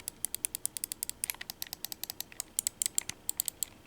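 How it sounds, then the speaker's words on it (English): Sharp micro switch buttons on a GPD XD handheld gaming device click rapidly and irregularly, close and crisp, like a burst of fast tapping with no voices. "Micro switches. I like micro switches."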